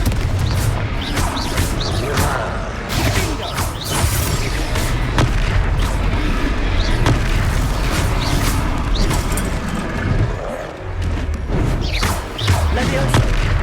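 In the video game Hogwarts Legacy, the Confringo fire spell sets off booming explosions amid a noisy magical duel, with repeated thumps and crackling bursts over a continuous rumbling background.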